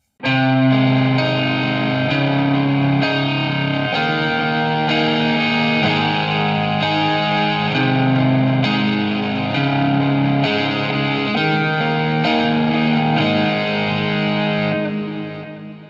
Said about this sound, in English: The first part of that progression sounds like this.